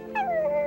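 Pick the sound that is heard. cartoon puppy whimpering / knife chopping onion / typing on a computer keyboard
cartoon puppy whimpering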